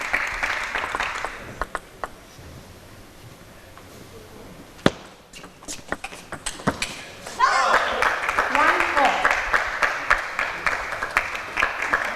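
Sharp claps and bursts of applause ring out in a table tennis arena, sparse at first and then quickening into a run of loud, close claps of encouragement while a commentator speaks.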